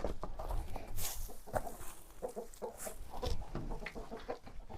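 Chickens cluck and chatter inside a coop on a farm in a northern climate, several birds making repeated short clucks and occasional sharper calls at close range, with a busy, rustling background.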